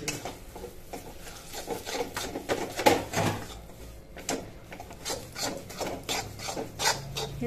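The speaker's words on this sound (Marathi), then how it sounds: "हे चांगलं मिक्स करून घ्यायचं आहे आपल्याला" A spoon scrapes and rubs through a mango-flavoured coconut and semolina burfi mixture with ghee in a pan, in repeated rasping strokes of uneven rhythm, close and moderately loud.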